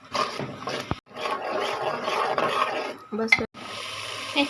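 Ground spice powder being sautéed in a pan: a close, busy frying hiss with stirring scrapes and utensil knocks, briefly cut by two short pauses, with a voice faintly present in places.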